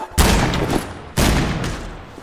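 Two loud, sharp gunshots from a pistol in a video game, about a second apart, each with a booming decaying tail.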